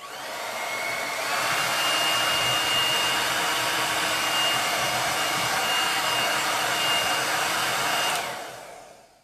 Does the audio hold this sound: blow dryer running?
yes